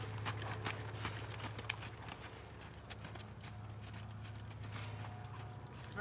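A horse's hooves clip-clop steadily on the ground during riding training, a soft, even rhythm of beats under a constant low hum, with occasional faint jingling of tack.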